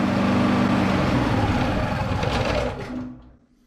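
Tagred or Matari portable generator engine running loud and close with a steady buzzing drone, then shutting down fairly abruptly near the end and dropping into silence.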